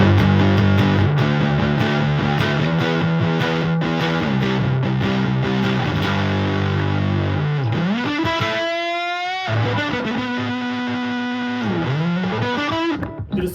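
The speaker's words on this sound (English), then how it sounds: "let's see what we can get out of this with the distortion all the way up." An electric guitar runs through a ProCo Rat distortion pedal with the distortion maxed, giving sustained, saturated chords and a long bending lead line. It is loud and continuous, with no talking.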